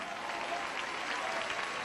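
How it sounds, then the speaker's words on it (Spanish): Steady, faint applause from a church congregation at a preaching service, a dense even patter of clapping hands throughout. "Ese aplauso sea para el Señor Jesús"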